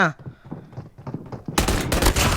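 Akimbo .50 GS pistols firing in Call of Duty Mobile, a dense burst of sharp, loud shots in the final second, preceded by softer game sounds and footsteps.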